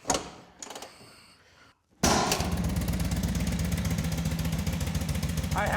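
A WWII-era motorcycle engine kicks over after a few quiet seconds and settles into a loud, steady running chug that continues to the end.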